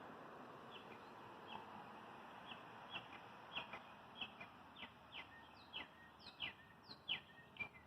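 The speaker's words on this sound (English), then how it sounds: "Do you hear the bird songs?" Small birds chirp and sing outdoors, a string of short, repeated tweets growing more frequent over a soft, distant hum of passing cars.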